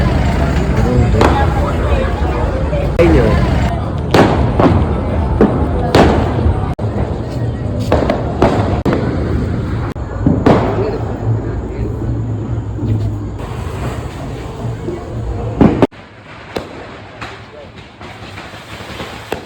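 Firecrackers burst at a mosque festival, a string of sharp, loud bangs at irregular intervals over crowd noise, the bursts thinning out toward the end.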